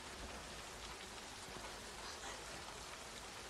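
Dense, even hiss of water pouring down from fire suppression sprinklers in a sci-fi horror film scene, a continuous rain-like spray with no pauses or distinct events.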